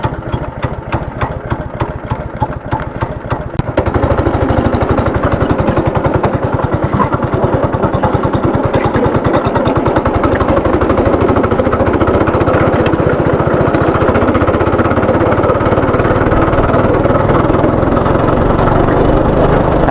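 A go-kart engine runs on a karting race track in Hyderabad, starting with a quieter idling putter, then rising after a few seconds into a steady, loud, buzzing drone as the kart drives continuously.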